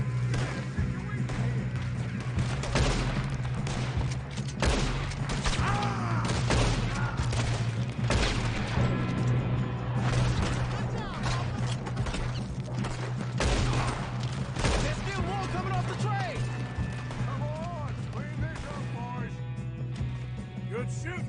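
Rapid bursts of gunfire and booming shots in Red Dead Redemption 2, dense and continuous over a steady background hum, with voices shouting amid the shooting.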